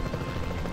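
Helicopter in the dinosaur park game Jurassic World Evolution 2, a steady loud rotor whir with a constant low throb held through the short moment.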